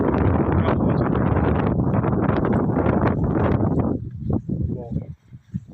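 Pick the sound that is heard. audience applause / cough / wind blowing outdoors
wind blowing outdoors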